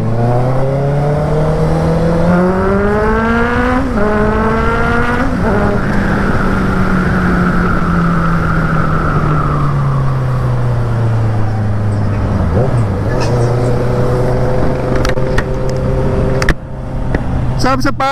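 A Honda CB650R motorcycle engine roars on a test ride, rising and falling in pitch through gear changes, loud and close and continuous throughout.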